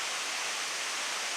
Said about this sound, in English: Look, a waterfall. Look, another waterfall. Look, a big waterfall.